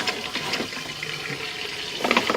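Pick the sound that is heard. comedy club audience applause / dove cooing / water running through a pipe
water running through a pipe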